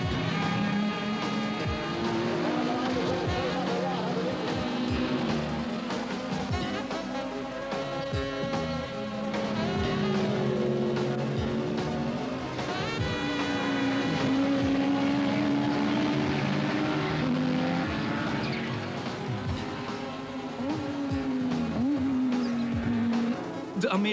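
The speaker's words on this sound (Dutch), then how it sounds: "De IMSA-races staan garant voor een mooi staaltje van close racing" IMSA race cars from teams such as Ford, Audi and Nissan roar continuously in close racing, engine notes rising and falling as cars pass, loud and sustained with no clear speech.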